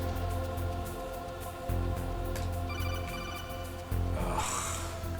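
An in-game phone rings in Metal Gear Solid, repeated electronic ringing tones over a low droning hum that pulses in and out in bursts.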